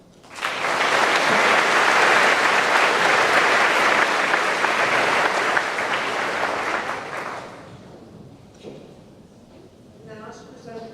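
Audience applause fills a school senior awards and cording ceremony, a dense roar of many hands clapping at once that holds strong, then thins and fades as a voice begins over the tail end.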